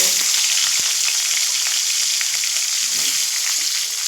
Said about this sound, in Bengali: লবণ দিয়ে আলুগুলো মিডিয়াম ফ্লেমে ভেজে নেব